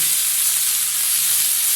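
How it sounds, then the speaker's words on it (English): Sizzling lamb shoulder chop, a steady close frying hiss with fine crackle, continuous and even throughout. "sizzling"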